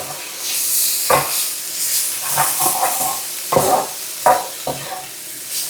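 Fries fry in hot oil for burger bowls, a loud, bubbling sizzle close by, broken by several sharper clanks and scrapes of the pan or basket, with no talking.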